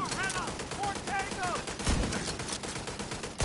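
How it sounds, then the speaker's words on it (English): Bursts of turret gunfire rattle rapidly as shots hit enemies in The Division 2, dense and loud over game sound effects and brief tonal chirps. "And they're getting shot by their own turret."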